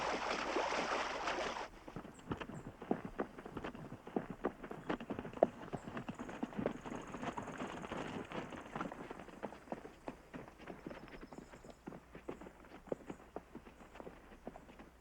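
Wild mustang hooves clip-clop in a loose, uneven rhythm at a moderate distance near a water hole, with a brief rush of noise at the start and no talking.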